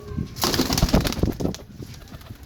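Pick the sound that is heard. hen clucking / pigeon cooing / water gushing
pigeon cooing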